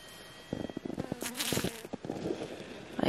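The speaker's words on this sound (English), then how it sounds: "Wasp, please leave." A wasp buzzes close by on a trail morning, its drone rising and falling in short bursts as it moves around, with no speech.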